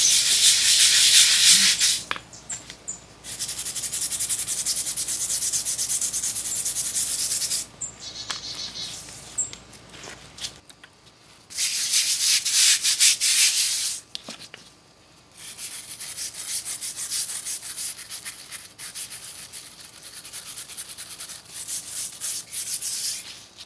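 A flagstone step is scrubbed by hand, loud close abrasive rubbing in several long bursts separated by brief pauses, with no voices.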